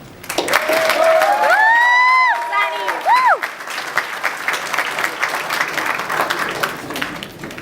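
Loud applause from a graduation ceremony crowd welcoming a speaker to the podium, a steady sustained roar of clapping with a few whoops and whistles rising over it early on.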